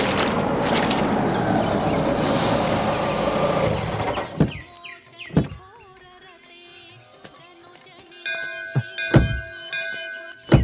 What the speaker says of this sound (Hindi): अरे गाड़ी आ रही है,